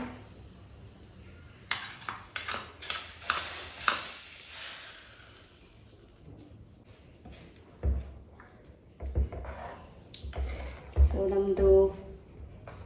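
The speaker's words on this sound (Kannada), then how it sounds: "ಇವಾಗ ಒಗ್ಗರಣೆಯನ್ನು ಕೊಟ್ಟರೆ ಆಯಿತು" A spice tempering for taro root sambar sizzles and is stirred in, with scattered pan clinks and scraping, bursts of hissing, and some faint talk in a home kitchen.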